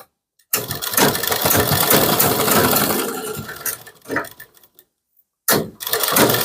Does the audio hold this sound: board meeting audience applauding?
no